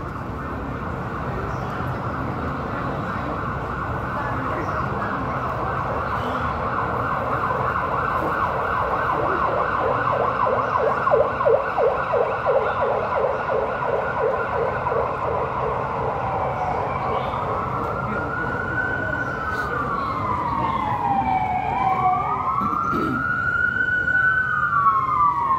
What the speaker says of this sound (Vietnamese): tiếng còi hú và bắt đầu các đoàn xe đang tiến đến.